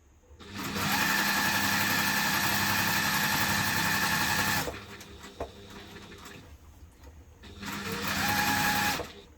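A sewing machine bastes two fabric pieces together for a hipster bag, running in a long steady mechanical whir for about four seconds, pausing to a low idle hum with a small click, then whirring again for a shorter burst.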